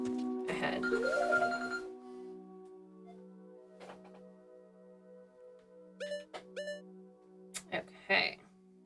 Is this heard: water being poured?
no